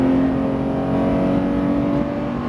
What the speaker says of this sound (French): C'est parti, on accélère.